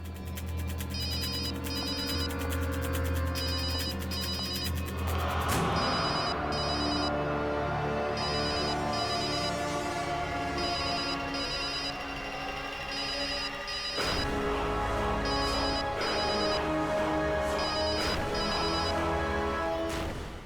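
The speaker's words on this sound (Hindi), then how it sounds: "फोन की आवाज तो यहीं कहीं से आ रही।" Repeated ringtone bursts from a phone sound over tense horror-drama background music, pausing around a loud dramatic crash before the ringing pattern resumes, with no talking.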